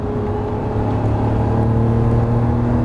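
Lamborghini Murciélago engine on a Las Vegas race track, a steady, loud droning note that builds slightly as it accelerates, alone without talk.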